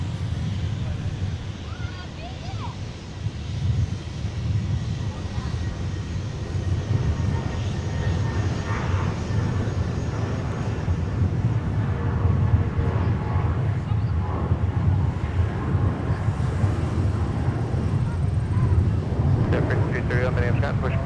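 An Atlas Air Boeing 747 arriving at Minneapolis–Saint Paul airport makes a deep, broad jet roar that swells gradually and holds steady and loud, with a low rumbling character and wind-like hiss over it.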